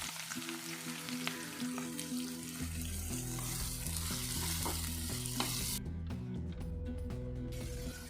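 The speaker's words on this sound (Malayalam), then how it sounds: "ബാക്കിയുള്ള വെളിച്ചെണ്ണയിൽ സവാളയൊന്ന് വഴറ്റിയെടുക്കണം" Sliced onions sautéing in coconut oil for kadai chicken, a continuous close sizzle and crackle with a low hum beneath, steady and fairly loud, without speech.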